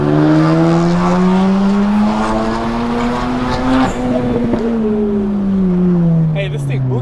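A twin-turbo Mazda FD RX7 accelerates hard, its loud, close engine note climbing steadily through the revs in one long pull before easing off near the end, with voices faintly mixed in.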